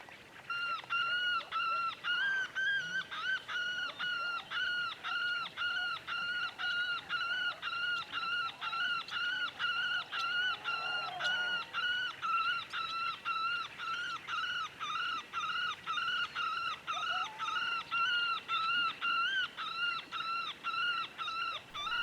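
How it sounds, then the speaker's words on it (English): Bird calls from an electronic predator caller used to lure a coyote: a steady train of repeated, evenly spaced honking chirps that loops without pause throughout, loud and clear over faint outdoor background. "I'm just going to roll with some bird calls here and see if I can get that coyote to come out"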